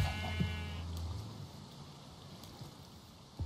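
A sheep in the video game Minecraft gives a short bleat at the start, followed by a quiet patter of game rain and a few faint clicks.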